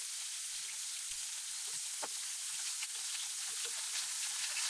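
Flour-coated tawilis fish fry in hot oil with a constant bright sizzle and hiss, scattered pops and crackles rising above it, close and alone.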